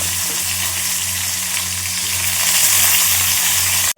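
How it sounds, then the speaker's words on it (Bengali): Tomato, onion, dried red chili and bay leaf sizzle together in hot oil, a steady dense frying hiss with faint stirring that holds for about four seconds before cutting off abruptly. "টমেটো পেঁয়াজও দিয়ে দেবো সমস্ত কিছু একসাথে ভাজা ভাজা হয়ে যায়"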